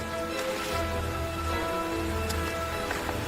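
Steady, soft rainfall pattering continuously with a low background hum, no voices.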